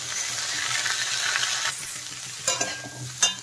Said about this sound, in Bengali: দেখেন ফুলকপিগুলো কিন্তু হালকা ভাজাও হয়ে গেছে।